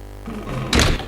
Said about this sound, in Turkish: Ah kapı açıldı.